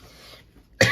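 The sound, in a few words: cough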